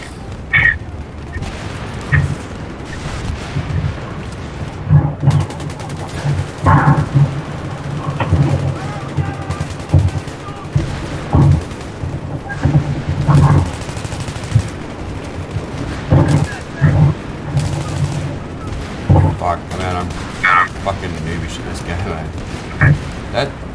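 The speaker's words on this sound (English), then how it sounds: "There are so many fucking grenades going off, it's not funny." Grenades explode and guns fire in a multiplayer shooter game, with repeated bursts of automatic fire and booms, some near and some distant, under frequent talking.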